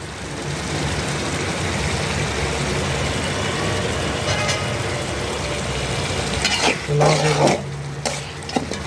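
Dried fish and garlic fry in a pan with a spice paste, giving a steady hissing sizzle. Toward the end come a few louder clatters and scraping stirs, with a low background rumble and no clear speech.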